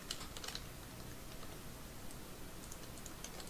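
Quiet, fast typing on a computer keyboard while working in Excel, with light key clicks ticking steadily through the whole stretch, heard alone and close.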